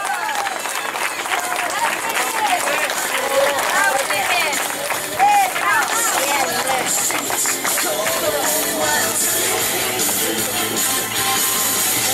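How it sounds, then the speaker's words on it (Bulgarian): Audience applause at a car race award ceremony, steady clapping under a voice speaking over the top, with crowd noise continuing throughout. "вашите аплодисменти за Кирил Величков от АСК ProSpeed"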